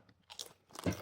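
A few quick crunchy bites into a snack, close and loud, with a sharp crunch at the end.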